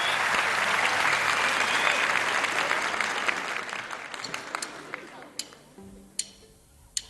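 Audience applause at a televised singing contest, loud and dense at first, then thinning out to a few scattered claps as it fades.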